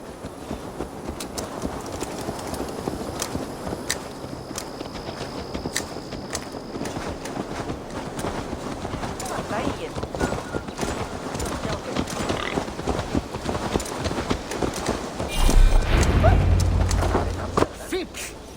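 Hooves clip-clop in a steady walking rhythm as a horse moves in Assassin's Creed Valhalla, with talk over the hoofbeats and a louder rumble near the end.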